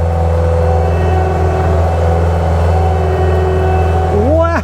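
Excavator with its parking brake released, engine droning at a steady, loud level close by, then a rising whine as it begins to move off at the end.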